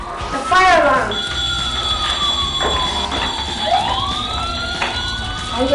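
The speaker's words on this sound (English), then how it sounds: "The fire alarm." A toy fire truck from a fire station play set sounds its electronic siren, loud and close, with a rising and falling wail over a steady high tone. Voices talk underneath.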